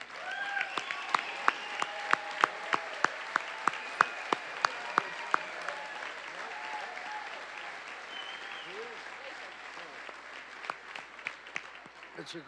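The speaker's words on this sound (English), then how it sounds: "we'd like to honor you with a round of applause" Applause from a crowd at a tribal nation's general council, honoring military veterans, fairly faint and steady for over twelve seconds, with a few sharp, isolated claps standing out early and voices murmuring beneath.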